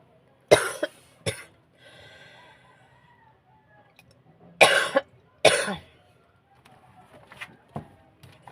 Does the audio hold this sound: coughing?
yes